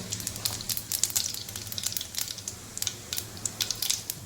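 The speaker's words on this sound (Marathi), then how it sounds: "राईला व्यवस्थित तडतडून घ्यायची आपण" Mustard seeds and cumin crackle and pop in hot oil, a dense run of sharp snapping sizzles close by with no talking.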